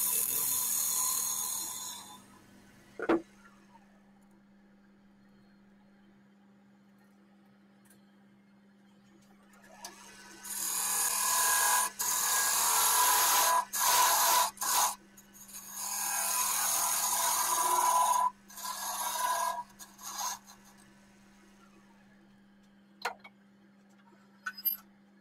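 Bowl gouge taking scraping cuts on oak and beech turning on a wood lathe, heard as bursts of loud broadband rasping separated by quiet gaps where only a steady motor hum remains.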